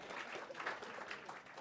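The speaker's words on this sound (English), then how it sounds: "round of applause for those 3-year folks" Applause from a conference audience at a statistical programming meetup's opening session, brief, steady and fairly faint clapping with a crowd wash throughout.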